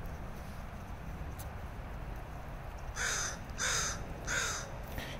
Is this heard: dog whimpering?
no